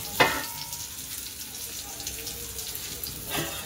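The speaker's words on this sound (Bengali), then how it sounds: "পটলটা প্রায় ভাজাই হয়ে এসছে।" Slices of pointed gourd fry in a pan in a home kitchen, giving a steady close sizzle with a few louder bursts at the start and end, and a voice speaking at moments over it.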